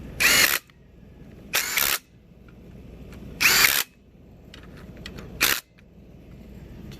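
Short bursts from a power driver or impact tool tightening bolts on a Honda K20Z3 engine being assembled, four loud whirring pulses spaced a second or two apart over quiet shop background.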